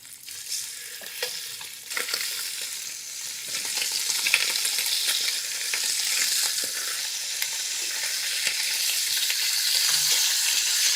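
Pork ribs brown in hot oil in a pan, a steady, close sizzle and crackle that builds slightly over several seconds, with no voices.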